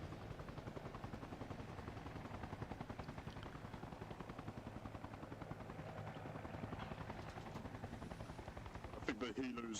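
Helicopter in the military shooter game ARMA Reforger, a steady loud rotor thump and turbine drone filling the whole stretch, with a few sharp gunfire-like cracks near the end.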